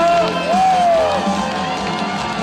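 A large outdoor crowd at a trot concert during the Cheongsong apple festival claps and cheers, a loud, continuous roar of applause with whoops and voices over a steady background hum.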